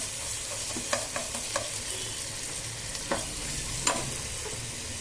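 Ginger garlic paste sizzles steadily in a hot pan for a mango chitranna, with a few sharp spoon scrapes and clinks as it is stirred.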